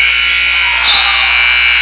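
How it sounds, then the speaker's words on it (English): A loud, sustained electronic buzzer sounds at the end of a period in a high school basketball game, a single continuous harsh tone that fills the whole moment. "And Galentine tries the last second buzzer beater three-pointer, and it is short"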